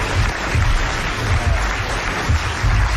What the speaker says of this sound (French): Alors vous allez applaudir comme elle le mérite, Madame le Prieur, d'Agon-Coutainville